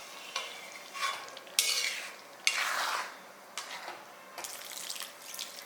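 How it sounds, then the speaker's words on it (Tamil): Water splashes into a simmering pot of vathal kuzhambu in bursts, with stirring and faint sizzling between the pours, close and fairly quiet. "இன்னும் கொஞ்சம் அளவுக்கு தண்ணி ஊற்றிக்கலாம்"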